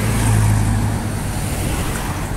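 An NIS bus driving past on the far side of the road, a loud steady engine rumble that swells early and then eases into a broad road hiss, with no talking.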